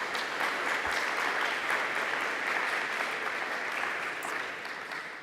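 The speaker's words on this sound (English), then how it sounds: "Let's give her a round of applause." Steady, dense applause from an audience at a provincial youth funding announcement, sustained evenly for several seconds before easing slightly at the end, with no talk over it.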